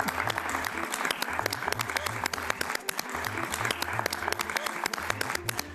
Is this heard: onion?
no